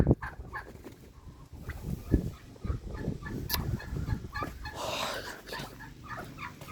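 Turkeys cluck and chatter nearby in a farmyard, a scattered run of short calls mixed with scuffling and some chicken-like clucks, with no clear voices over them.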